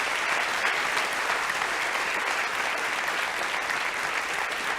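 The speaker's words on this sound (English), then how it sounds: "will you give Ray a huge round of applause?" Sustained audience applause fills the room at the close of a talk with futurist Raymond Kurzweil, a dense, steady wash of clapping from a large crowd with no break.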